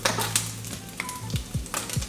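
Strips of turkey bacon fry in a pan, giving a steady close sizzle broken by a few soft scrapes and pops, with no talking.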